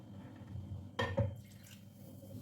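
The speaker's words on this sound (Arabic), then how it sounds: "نزيد واحد شويه الماء" A small splash of water poured into a pot of Moroccan mrouzia, one brief liquid gush near the middle against a quiet kitchen background.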